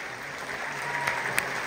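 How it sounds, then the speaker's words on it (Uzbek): A concert audience at a show at the Druzhba hall applauds in a steady, even patter that builds slightly toward the end, with no voices over it. "olqishlaringiz azizlar."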